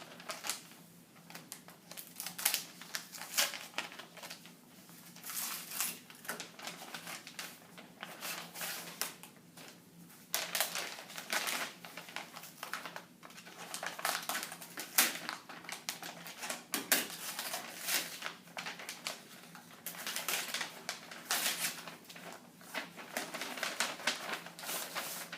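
Paper envelopes for a public transit bid opening being handled and torn open, faint irregular rustling and crinkling in quick bursts over about twenty-five seconds, no talk.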